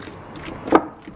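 Soft squishing and mashing of avocado flesh by hand for homemade oil extraction, a short close clip with faint rubbing and one brief wet thud partway through, no speech.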